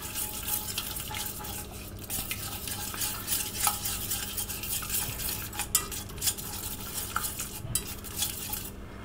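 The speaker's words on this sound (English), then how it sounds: "Keep whisking it." A sauce being whisked in a pan, a continuous brisk scraping and clinking of the whisk against metal over a low background sizzle, close and steady for several seconds with no talking.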